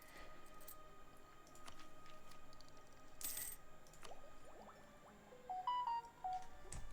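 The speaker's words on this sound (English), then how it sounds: "Go away, phone." A mobile phone gives a few short, bright notification beeps near the end, rising and falling in pitch, heard over a low steady background hum with no talking.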